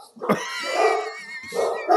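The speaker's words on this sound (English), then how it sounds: "Sorry, the dogs are fired up." Several dogs bark and yip excitedly close by during a podcast recording, loud overlapping calls filling the short stretch with barely a pause.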